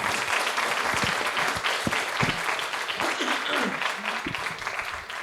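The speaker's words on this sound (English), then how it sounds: "Would you all give everyone a round of applause" An audience at a poetry and justice event claps warmly and continuously, a dense wash of hands with scattered voices mixed in, tapering slightly at the close.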